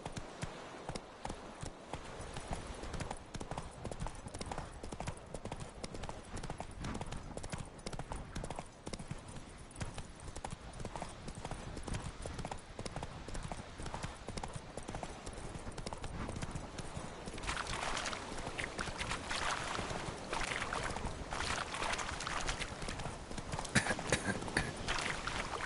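Horse hooves gallop in The Witcher 3 in a fast, steady clip-clop that runs throughout, close and prominent, with a brief burst of game ambience near the end.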